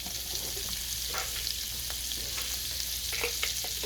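A whole stick of butter melts and sizzles in leftover pan drippings, making a steady close crackle with scattered small pops and spits that runs the whole time with no talking.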